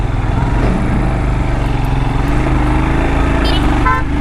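A Royal Enfield Himalayan motorcycle runs along a road with a loud, steady engine drone and wind rumble, holding an even note from start to finish, close to the microphone.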